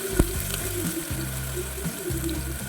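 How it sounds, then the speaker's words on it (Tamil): Tomatoes fry in a pan for parotta chalna, giving a hissing sizzle with a few bursts and sputters, close and continuous over a short stretch. "இப்போ நம்ம வச்சுருக்க தக்காளி நான் சேர்த்துக்கிறேன்"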